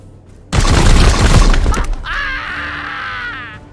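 Loud burst of gunfire and impacts in the Warhammer 40,000 video game Chaos Gate - Daemonhunters, a dense crashing blast lasting over a second, followed by a sustained warbling tone as the effect fades.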